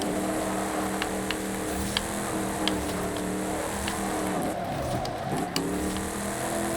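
Toyota Land Cruiser Arctic Trucks AT37 (2016), off-road tuned, driven in a video game: a steady engine drone with harmonic hum runs throughout, with faint clicks and a brief dip and rise near the end as it revs.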